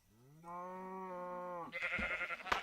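A sheep lets out a single sustained, tonal bleat lasting over a second, followed by a burst of brighter, noisier clattering sounds, fairly faint overall with no speech.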